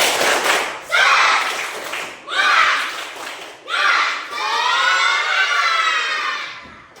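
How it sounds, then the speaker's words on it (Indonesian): A school class doing a tepuk semangat clapping cheer, heard as four loud bursts of rhythmic group clapping with children's voices chanting along, the last burst longer and sustained. "Tepuk semangat."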